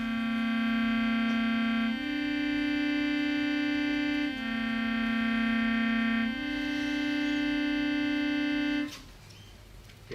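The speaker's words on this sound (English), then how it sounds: "you're just hearing the two tones in the same register" Two sustained electronic tones a whole step apart in the same register, alternating in long held notes, clear and steady, then cutting off into a brief noisy tail near the end.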